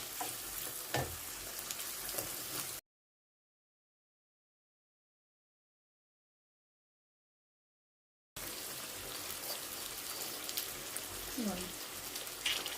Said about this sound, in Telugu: ఈ మ్యారినేట్ చేసి పెట్టాం కదా చేప ముక్కలు వాటిని కూడా వేసేస్తాం ఇలా అన్నీ ఒకసారి ఇలా తిప్పుకోవాలి